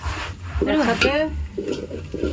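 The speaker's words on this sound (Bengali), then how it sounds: "একটু নড়াচড়া করলাম গ্রিন চিলি রেড চিলি আর সয়া সস" Green chili, red chili and soy sauce are stirred in a frying pan, giving close, steady sizzling and scraping that runs under a brief voice, with a busy stretch of clatter early on.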